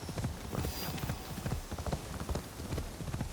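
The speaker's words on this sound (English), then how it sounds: "And I'm gonna go steal that horse." Horse hooves clip-clop in steady, rapid rhythm in Assassin's Creed Shadows, a continuous close gallop of hoof strikes over a few seconds with no speech.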